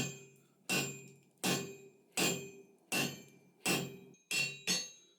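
A hammer strikes hot iron on an anvil, drawing out a taper at a coal forge, with seven evenly spaced ringing blows, each decaying before the next, close and clear with no talk.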